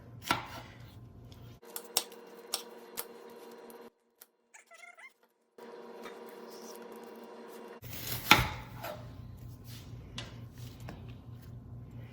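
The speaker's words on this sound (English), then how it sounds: "you're just gonna chop it up" Knife chopping a pepper on a cutting board while making fresh homemade salsa, heard as a series of sharp, close taps in irregular bursts over a low kitchen hum, with a quiet gap midway.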